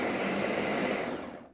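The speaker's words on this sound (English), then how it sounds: "with your blender, start off on blend" A kitchen blender pulsing gazpacho ingredients roars loudly and steadily for a second before quickly winding down, with no voices over it.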